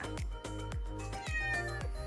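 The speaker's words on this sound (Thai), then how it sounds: "มีแมวด้วยเนี่ย" A cat meows repeatedly in a home kitchen, about five loud, close, drawn-out meows in quick succession with no talking.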